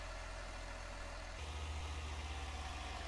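A tractor engine idles steadily in the Farming Simulator 19 game, a continuous low rumble with a slight rise in level partway through. It sounds close and runs alone, with no talking.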